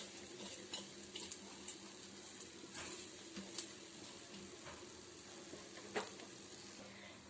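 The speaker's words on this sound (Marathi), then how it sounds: "मसाला बनवताना वरच्यावर परतवत राहिलं की मसाला छान बनतो" Masala for a spicy jackfruit curry is stirred and roasted in a pan, with quiet sizzling under soft scraping and occasional clinks of a spoon against the metal.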